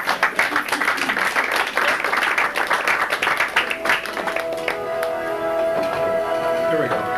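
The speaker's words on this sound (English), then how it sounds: "We'll applaud that." Audience applause at a board of education meeting after a children's song, a burst of scattered clapping that fades after a few seconds into a softer background with a tonal hum and faint voices.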